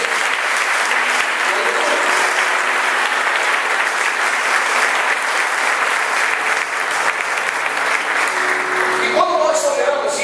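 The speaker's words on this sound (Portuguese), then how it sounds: "dar uma salva de palmas para Jesus" Church congregation applauding steadily and loudly for about ten seconds, a dense continuous wash of clapping with no break.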